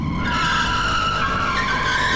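A car in GTA V brakes hard and skids, with a loud continuous tire squeal over steady engine and road noise throughout.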